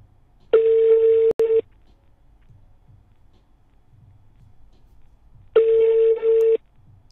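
Two ringback tones sound about five seconds apart, each a steady buzzing tone lasting roughly a second, with quiet in between.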